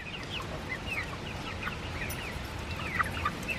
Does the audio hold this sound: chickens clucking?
yes